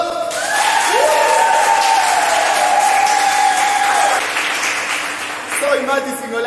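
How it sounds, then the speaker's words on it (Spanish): Loud, sustained applause and cheering from a crowd at a Zumba dance event, with an amplified voice calling out over the clapping and a whistle-like tone near the end. "¡Fuerte el aplauso!"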